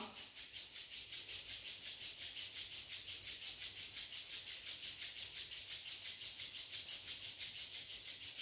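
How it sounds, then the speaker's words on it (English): Both palms rubbed together in a steady back-and-forth rhythm, a soft continuous close-up friction during a yoga class, with no talk over it. "Rub your both palms."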